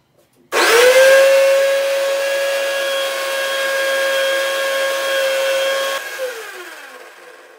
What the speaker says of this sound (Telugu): Okay, mixie వేసుకుందా.